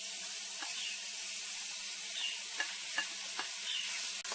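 Chicken with Southwest seasoning sizzles steadily in a pan for a chicken and pineapple quesadilla. A few utensil scrapes and taps sound over the constant hiss, close up and with no talk.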